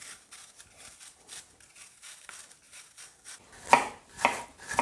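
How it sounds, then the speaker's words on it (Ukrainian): A knife slices peeled apples into thin pieces, giving soft, quick cutting taps that grow into a few louder, sharper strokes toward the end. "Спочатку очищаємо та нарізаємо яблука тоненькими слайзами."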